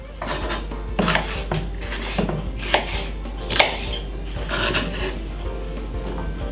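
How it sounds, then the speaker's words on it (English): Yellow pepper being chopped with a knife on a cutting board for Jamaican oxtail with rice and peas, a series of close, crisp knife strikes at an uneven rhythm, some louder thuds standing out, with faint kitchen clatter behind. "Cut it up very small, not too small, you know what I mean, but medium size"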